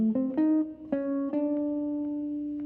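Jazz guitar plays a short syncopated phrase starting on the upbeat, a handful of clean plucked notes ringing into one held tone, close and fairly soft, with no talking.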